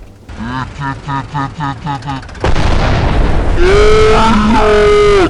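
A rhythmic pulsing drone gives way to a sudden loud explosion in the game Teardown, followed by a roaring rumble with a voice sounding over it.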